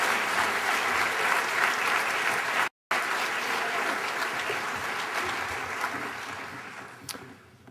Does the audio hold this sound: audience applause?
yes